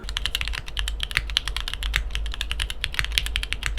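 Rapid, crisp keystrokes on a Neo65 mechanical keyboard with its foam removed, a close, continuous patter of clacky presses with a faint low hum beneath and no voices.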